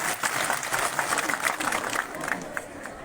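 Scattered applause from a small audience at an inauguration and foundation-stone ceremony, uneven clapping with some crowd noise underneath, mixed with voices.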